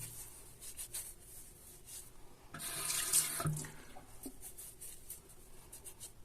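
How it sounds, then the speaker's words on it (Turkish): Tap water runs into a sink while a face is wetted before a full-face shave, a steady nearby splash that swells louder for a couple of seconds in the middle. "birazcık yüzümü ıslatıp e, hatta bayağı bir ıslatayım bu sefer"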